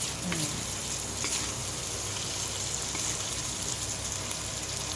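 Instant noodles stir-frying with egg and carrot in a hot pan give a steady close sizzle, with a couple of light scrapes of stirring near the start and a low hum underneath.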